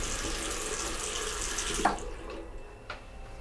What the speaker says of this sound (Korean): 그 후로도 화장실 물소리는 계속됐고